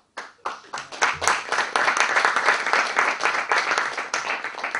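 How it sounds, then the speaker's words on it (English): After a brief silence, a conference audience at an opening ceremony breaks into applause. Dense, steady clapping builds quickly and holds fairly loud throughout, with no talk over it. "I'd like to give a round of applause to all who made it here"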